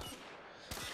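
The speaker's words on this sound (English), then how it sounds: "Press R2 to fire your weapon. That's blind fire." Blind-fire gunshots from a weapon in The Order: 1886, a short burst of sharp reports over a dense game soundscape, a second crack arriving near the end.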